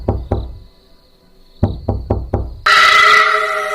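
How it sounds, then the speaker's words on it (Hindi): Knocking on a door at night: two sharp raps, a pause, then four quicker knocks, close and loud, followed by a burst of bright, sustained noise. "वो रात होते ही लोगों के घर के बाहर जाती और उनका दरवाजा खटखटाती।"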